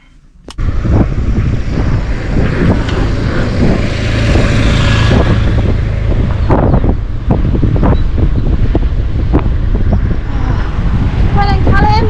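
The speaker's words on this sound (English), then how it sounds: "It's so windy out there" Strong wind buffets the microphone in loud, continuous roaring gusts at a road cycling race in London, with faint voices and distant traffic underneath.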